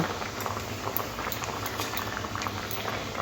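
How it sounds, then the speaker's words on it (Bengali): Fish roe curry with potatoes bubbling steadily in a pot, a dense continuous boil with small pops and crackles throughout, close and fairly loud, no talk. "ফুটে উঠেছে ডিমগুলো দিয়ে দেবো"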